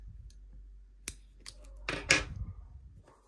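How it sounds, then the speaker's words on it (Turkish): Scissors make a couple of quick close snips through crochet yarn, with light handling rustle around them in a quiet room. "1-2 tane de zincir yapıp ipimi kesiyorum."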